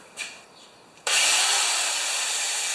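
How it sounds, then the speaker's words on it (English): After a faint click, an electric drill starts suddenly and runs with a steady, high-pitched whirring whine. "A drill will work."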